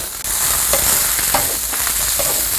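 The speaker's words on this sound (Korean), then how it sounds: "이때 채소 썰어 놓은 거 다 넣으세요. 양파, 당근, 대파 다 넣으시면 됩니다." Chopped onion, carrot and green onion tossed into potatoes frying in butter, a loud continuous sizzle close by with a few soft stirring knocks, no voices.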